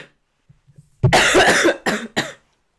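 A person ill with a cold coughs into a hand close to the microphone, one long harsh racking cough followed by two shorter sharp ones after a few faint small sounds.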